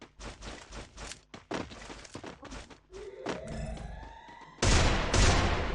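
Rapid bursts of gunfire from the Counter-Strike video game in ranked play, close and loud, followed by a sustained heavy blast and rumble near the end, with scattered footsteps and thuds between shots.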